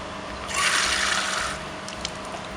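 Water pours into a can in a brief rushing burst that swells and then fades, heard fairly close with no talk over it.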